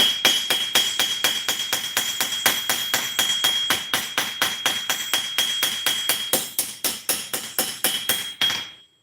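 A forging hammer pounds hot metal in a steady, fast, loud rhythm of dozens of ringing metallic blows, evenly spaced and close, and the strikes slow slightly before stopping abruptly.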